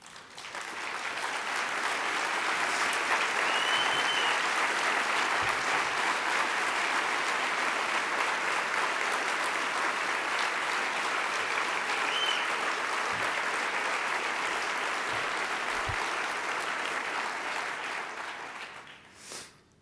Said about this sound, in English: If you three people would please stand up so we can give you an applause.